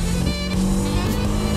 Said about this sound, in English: Accelerate really fast.